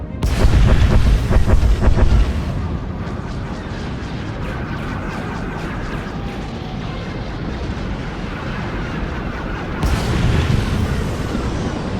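An orbital bombardment in the Star Wars: The Old Republic video game opens with heavy, loud artillery booms in quick succession, settles into a lower rumbling roar, then swells into fresh blasts near the end.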